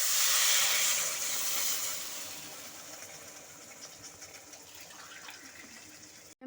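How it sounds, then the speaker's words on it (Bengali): Water poured from a container into a pot of potato and eggplant curry with ground spices, a steady close splashing hiss that slowly softens and thins out over several seconds. "এখন আমি দিয়ে দেব পরিমাণ মতো জল"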